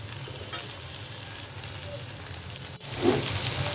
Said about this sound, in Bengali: এই তো ভুড়ি ভাজা প্রায় হয়ে গেছে।